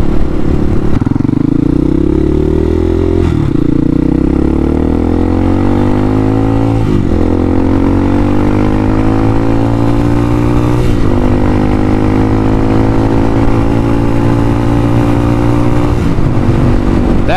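A Hawk 250 motorcycle engine runs close and loud with the choke being adjusted, its pitch rising and falling through several slow rev swells with a steady throbbing idle between.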